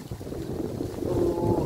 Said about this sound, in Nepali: यस्तो हावा चल्छ यार, चिसो हावा, दामी हावा चल्दैछ गाइस